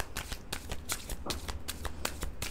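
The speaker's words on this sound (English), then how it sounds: "So let me just finish shuffling." Tarot cards riffled and shuffled by hand, a close run of crisp repeated flicks and bursts in uneven rhythm with no talking.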